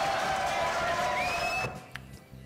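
A studio audience applauds on a French TV talk show, a dense, steady wash of clapping that fades out abruptly after about a second and a half.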